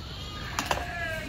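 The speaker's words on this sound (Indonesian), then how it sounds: "Bing kambing, sini Bing" Goats bleat on the Annapurna Base Camp mountain trail, two short close calls in quick succession over steady outdoor ambience and a faint background tone.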